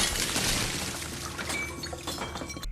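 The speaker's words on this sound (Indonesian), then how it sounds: "Galon di belakangnya pecah secara tiba-tiba." A large water jug bursts apart in a scene from the 2013 film Carrie, giving a dense, bright crash of shattering glass-like fragments that gradually thins into scattered clinks and trickles.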